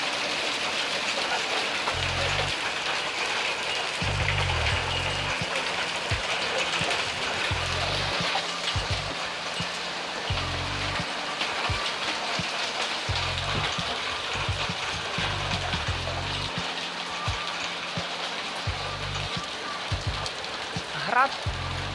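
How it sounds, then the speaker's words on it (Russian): Dense, steady pattering of hail on a surface on a stormy morning with lightning, continuous throughout, with faint low thumps and occasional drips. "град."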